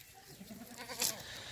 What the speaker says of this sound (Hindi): बहुत प्यारा बकरा है माशाल्लाह